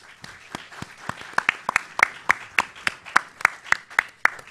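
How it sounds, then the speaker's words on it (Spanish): Audience applause welcoming a speaker at a public policy forum: a small, fairly close group claps in a loose, irregular rhythm of distinct sharp claps that settle into a steadier beat. "José Luis Pérez Guadalupe, para quien pido un fuerte aplauso de bienvenida"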